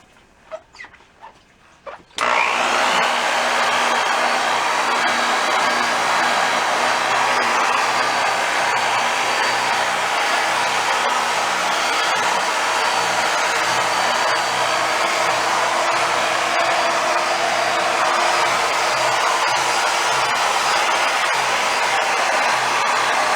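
Steady, loud whirring of a power buffer running a clean, regular buffing pad across a restored 1938 Leedy Broadway Parallel snare drum finish with a drop of micro-finishing glaze, continuous after a brief quiet start.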